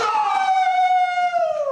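A dog lets out a sustained, tonal howl close by, a single rich drawn-out note that slowly falls in pitch over nearly two seconds, with no talk over it.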